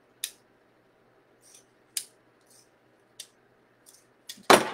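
Scissors snipping through thick craft material for a pill bottle pumpkin, a few sharp separate cuts spaced about a second apart, close and fairly quiet, ending in a louder rustle.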